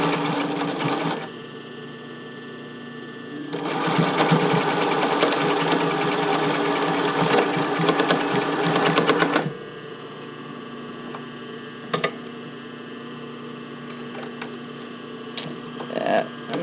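A sewing machine runs zigzag stitching along a bra fitting band, a close rapid mechanical chatter in two bursts separated by a pause, then quiet hum with a few clicks.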